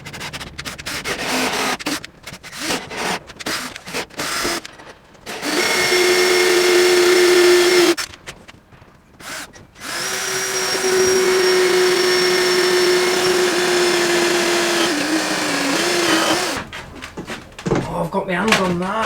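A power drill whirs in two long, steady bursts, drilling holes while refitting narrowboat windows, with a few short revs and talking before and between them.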